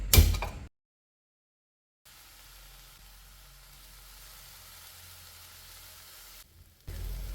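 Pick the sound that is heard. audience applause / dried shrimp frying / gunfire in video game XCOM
dried shrimp frying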